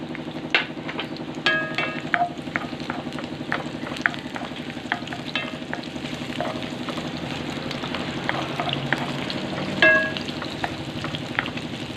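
Garlic and onion sauté in oil in a pan for pork adobo, a loud continuous close sizzle with scattered crackles and occasional utensil clinks, no voices.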